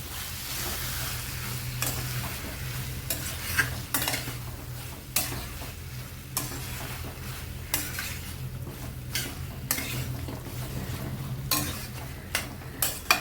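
Paneer and vegetables tossed with masala in a pan, a steady sizzle running throughout with repeated scraping and clinks of a spoon against the pan, fairly close, with no talking.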